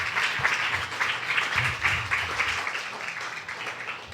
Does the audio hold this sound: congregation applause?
yes